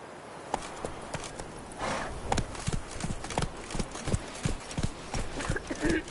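Roach the horse gallops in The Witcher, rhythmic hoofbeats pounding close and fast, rising in intensity partway through, with some voices heard over the running.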